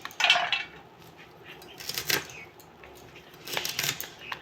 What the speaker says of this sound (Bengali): আমি এবার কুচি কেটে নেব।